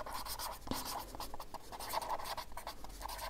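A pen writes on paper in short, scratchy strokes with small pauses between them. The writing sounds close and clear, and no one speaks.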